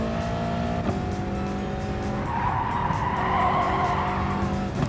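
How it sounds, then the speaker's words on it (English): Race car in Gran Turismo Sport sliding off track after overshooting a turn, with a sustained tire squeal and skid rising over a steady engine drone, close and fairly loud. "Leader goes sliding off the side, overshoots the turn"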